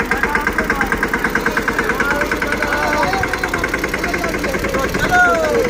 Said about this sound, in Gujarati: આપણો ઓવરલોડેડ ટ્રેક્ટર ભરીને આવી ગયા.